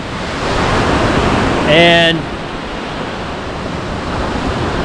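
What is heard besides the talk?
lake waves while foil surfing on the Great Lakes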